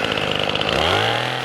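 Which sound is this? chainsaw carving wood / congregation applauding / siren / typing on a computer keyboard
chainsaw carving wood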